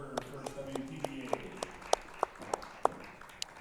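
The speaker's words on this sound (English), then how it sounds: "a round of applause for Janine Johnson" A small crowd at the Ashton Twins Classic women's snooker event gives a round of applause, scattered sharp claps under a commentator's voice, fairly faint and sparse.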